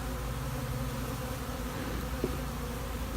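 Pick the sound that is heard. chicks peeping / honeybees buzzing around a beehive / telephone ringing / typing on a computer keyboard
honeybees buzzing around a beehive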